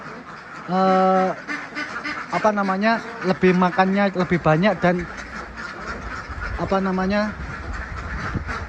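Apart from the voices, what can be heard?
ducks quacking in duck pen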